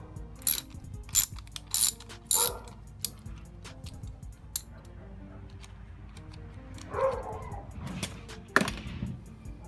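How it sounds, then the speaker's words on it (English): A ratchet wrench loosens the nut on a car battery terminal connector of a Lincoln MKZ, with short bursts of rapid clicking separated by pauses and a few metallic knocks near the end. "So I'm going to loosen this nut right here, and then I'm going to take this off."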